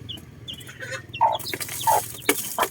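Day-old chicks on a small Filipino poultry farm give several short, high peeps and clucks at irregular moments. A low hum runs beneath the calls, and nobody speaks.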